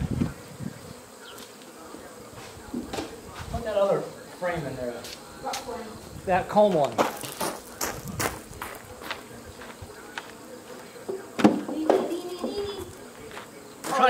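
Honey bees buzz around extracted honey frames left out for cleaning, a close, swelling and fading hum with individual bees passing the microphone while two people talk briefly.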